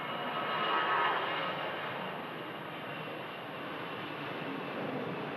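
A Lauda Airbus airliner departs Manchester Airport for Vienna, its engines a broad, steady roar that swells slightly early on and then holds evenly at a moderate distance, with no talk over it.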